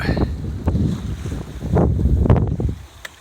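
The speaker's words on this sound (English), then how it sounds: "I'm just in the process of sailing out round the Eddystone light" A Maxi 95 sailboat sails at sea out of Plymouth toward the Eddystone lighthouse, with gusty wind buffeting the microphone over the rush of water along the hull.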